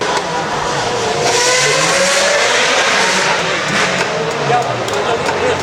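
Race cars lapping at Goodwood, a loud continuous engine roar with rising and falling revs as cars pass close, heard under a busy crowd and voices.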